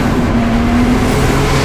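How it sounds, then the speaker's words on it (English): A naturally aspirated BMW race car howls past at speed during a circuit race, its loud steady engine note holding a high pitch and dropping slightly as it goes by. "So that's a naturally aspirated race car right there."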